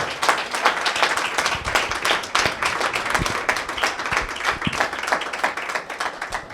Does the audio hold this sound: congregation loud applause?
yes